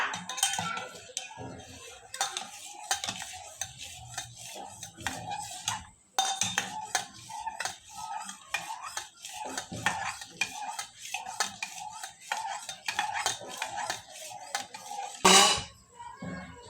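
A spoon stirs chocolate cake batter with baking soda in a bowl, giving quick, repeated metallic clinks and scrapes against the dish, briefly pausing midway and ending on a sharper clatter.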